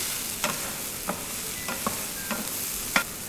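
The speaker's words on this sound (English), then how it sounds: "Let's saute again." Baby corn sautés in a hot pan with a steady sizzle, broken by several scraping stirs of a spatula at irregular intervals, close and fairly quiet, with no talking.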